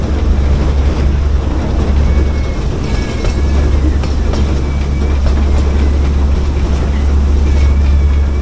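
A narrow gauge hill railway train passing a level crossing on the Neral to Matheran line rumbles loudly and steadily at close range, with faint squealing tones and clattering over the rails.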